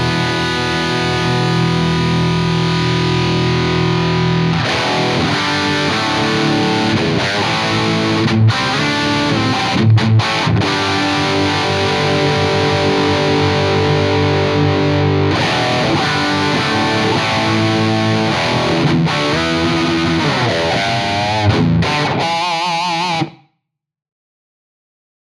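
High-gain distorted electric guitar heard through an ENGL Fireball cabinet impulse response, a dense, saturated riff with chugging chords and sustained notes played continuously and loud, stopping abruptly near the end.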